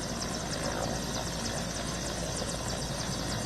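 Military helicopters and fighter jets fly over an expressway during an Indian Air Force airshow, giving a steady, continuous rotor and engine roar that holds at a constant level throughout without letting up.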